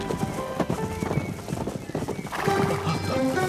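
Hooves of a horse-drawn carriage clip-clop steadily in an animated Vietnamese folk tale, with a horse whinnying and voices talking over the trotting.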